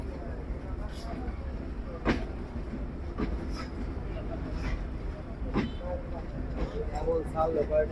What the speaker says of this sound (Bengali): বেনাপোল এক্সপ্রেস ট্রেনটি চলে যাচ্ছে ক্রসিং হচ্ছে